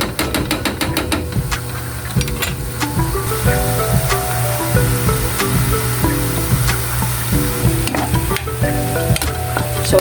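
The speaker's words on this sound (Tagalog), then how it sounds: "hayaan kumulo muna" A sauce with brown sugar simmers in a pan, giving off a steady, close sizzle that runs throughout while tonal background music plays over it.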